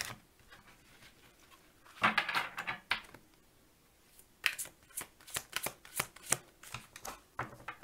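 Fairy tarot cards being shuffled by hand, a soft papery riffle and rustle that starts quietly, swells into a burst around two seconds, then returns as a run of crisp, closely spaced card slaps and flicks toward the end.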